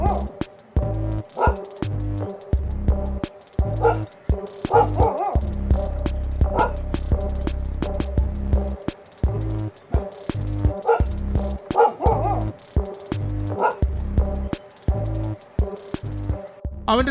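A pet dog confronting a wild tusker elephant in Kerala barks over and over in rapid, insistent bursts that keep going without pause, loud and close against a busy background.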